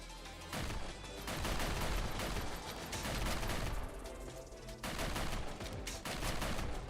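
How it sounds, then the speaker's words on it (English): Shotgun fire in the video game Sentinel Girls 2 (Snezhinka), loud dense blasts repeating continuously with short gaps, alone with no voices. "We'll try out the shotgun."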